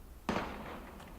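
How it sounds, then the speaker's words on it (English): A single sharp gunshot in the Valkyria Chronicles video game cracks out loud and close, then trails off into a long rumbling echo, with no voices over it. "Gunfire!"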